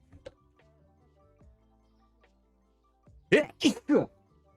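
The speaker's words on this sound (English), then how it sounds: "I'm gonna sneeze." A person sneezes loudly and close, a sharp three-part burst that follows a few quiet ticks and clicks from a supermarket simulator game.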